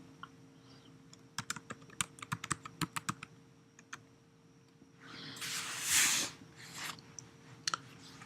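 Keys on a computer keyboard tapped while entering a Gmail email address and password, a quick burst of close, distinct clicks followed by a brief rushing noise and a few final taps.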